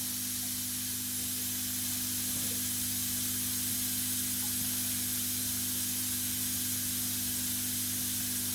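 Water rushes steadily into a farm water filter tank, a constant close hiss and spray with a low hum beneath it and no voices.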